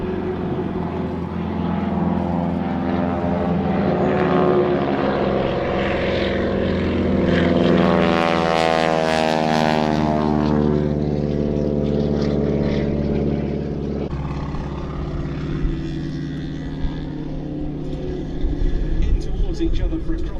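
Propeller aircraft of a wing-walking display team flying in towards the crowd at an Odiham air show, a loud engine drone that swells and shifts pitch as the planes pass overhead, with a commentator talking over it.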